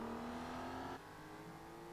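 A 2003 Aston Martin DB9 engine in Gran Turismo 4 holds a steady, faint tonal hum that drops in pitch and settles lower partway through, as if easing off the throttle.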